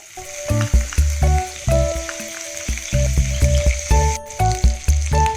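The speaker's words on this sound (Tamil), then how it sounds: "ஸ்டவ் ஆன் பண்ணி கடாய் வச்சாச்சு. அதுல 1 டேபிள் ஸ்பூன் பட்டர் விட்டுக்கிறேன்." A tablespoon of butter sizzles with a steady hiss in a hot kadai, under a bright, plucked musical melody.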